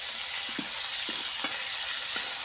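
A chutney mixture fries in a pan with a steady, even sizzle, broken by a few soft scrapes and stirs of a spoon, close up with no voices.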